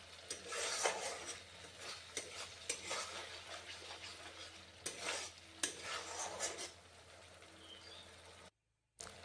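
Spice paste with a little salt is stirred and sautéed in oil in a pot over low heat for a lentil-dumpling curry, with repeated close scraping strokes of a spoon against metal over a steady sizzle and no voices.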